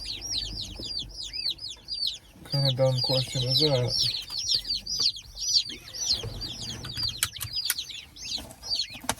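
A boxful of sixteen newly delivered layer chicks cheeps and clucks constantly in a shipping box, loud and close, with a voice speaking briefly over them.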